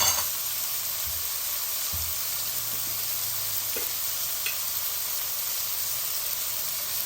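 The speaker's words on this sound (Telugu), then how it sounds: "టమాటోస్ కొంచెం మగ్గాలండి మూత పెట్టి మగ్గిచ్చేద్దాం కొంచెం పసు ఉప్పు వేసుకొని మగ్గిద్దాం" Tomatoes cook down in a covered pan with turmeric and salt, giving a constant soft sizzle and steamy hiss with a few faint knocks, nearby and steady without speech.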